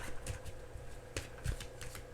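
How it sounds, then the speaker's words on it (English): Tarot cards shuffled by hand in a quiet room, with a run of soft riffling flutters and a few sharper snaps of cards landing, close and fairly faint, no talk. "I have to shuffle again."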